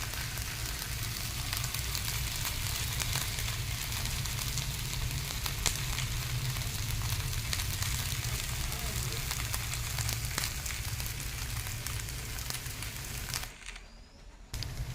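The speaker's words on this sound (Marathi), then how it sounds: "उत्तप्प्याची दुसरी बाजू सुद्धा आपल्याला भाजून घ्यायची आहे" Rava uttapam sizzles on a pan while its second side roasts, a soft continuous crackling fry that stays faint and even and drops out briefly near the end.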